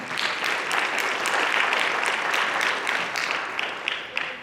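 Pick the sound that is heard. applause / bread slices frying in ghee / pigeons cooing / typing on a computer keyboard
applause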